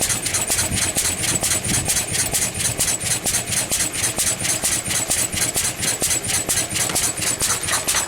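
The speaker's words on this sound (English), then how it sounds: "You can hear it 8-stroking." An older pre-electronic engine running on too rich a mixture and 8-stroking, its rapid uneven pulsing beat steady and close. It runs alone with no voices over it.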